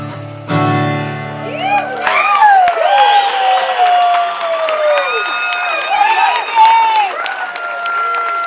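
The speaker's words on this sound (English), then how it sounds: "All right, applause." An audience at the Kerrville Folk Festival breaks into loud, sustained applause with cheers and whistles. The clapping swells after a brief tone at the start and continues steadily throughout.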